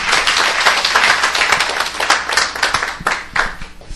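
Steady applause from a church camp forum crowd, dense hand claps filling the whole stretch, loud and close, with a few sharper claps standing out near the end.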